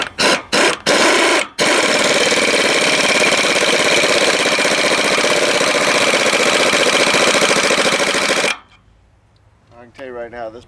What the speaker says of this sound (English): let's see if the earthquake can take it back off